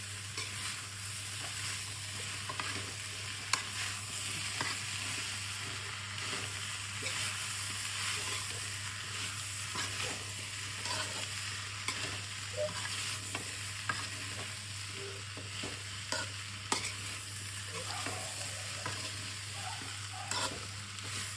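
Tapioca (kappa) being stir-fried in a pan, a steady sizzle with intermittent scraping and stirring clinks throughout, moderately quiet and without talk.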